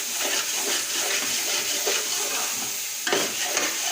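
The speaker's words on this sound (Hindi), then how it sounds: "अब गाजर को अच्छी तरह भूनूंगा देसी घी के अंदर" Grated carrots frying in desi ghee in a pan while being stirred, giving a steady close sizzle with scraping stir strokes and a louder clatter near the end.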